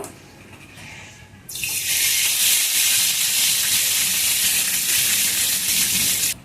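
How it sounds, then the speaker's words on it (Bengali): Mustard oil sizzles loudly in a hot kadai while jute leaves with shrimp are being cooked. The sound is a sudden bright hiss that holds steady and close for several seconds, and no one talks. "কড়াই গরম হয়ে গেছে। এখন সরিষার তেল দিয়ে দেব।"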